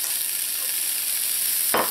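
Garlic sizzles in a pan over medium-low heat as mixed vegetables fry alongside it, giving a continuous crackling hiss that ends in a brief louder burst of stirring or sizzle.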